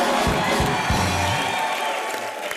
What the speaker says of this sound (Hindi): ताली मिल गई तेरे को